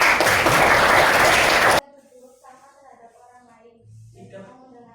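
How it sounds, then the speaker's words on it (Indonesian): An audience at an Islamic religious education training session claps loudly for under two seconds, then stops sharply as a person begins speaking. "Terima kasih, tepuk tangan."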